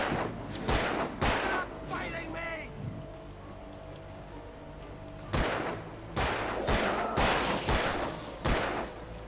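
Loud, sharp gunshots in the Alan Wake video game, fired in bursts of several quick shots, pausing, then a second rapid volley, over a low game ambience and someone talking.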